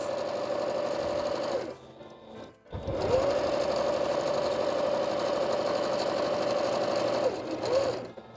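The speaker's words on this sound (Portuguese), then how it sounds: "vamos até o fim para costurar as laterais" A sewing machine stitching the sides of a bag, running in a steady close whir, pausing briefly, then resuming for a long continuous run before slowing near the end; no speech.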